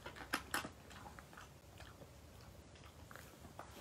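Close, crisp chewing and biting on food during a Thai mukbang-style eating show, with a few sharp crunchy bites early on, then softer irregular mastication over a quiet background.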